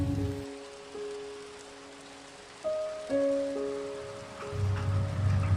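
Heavy monsoon rain falls steadily and continuously during coastal flooding, with a faint droning tone running underneath and no voices.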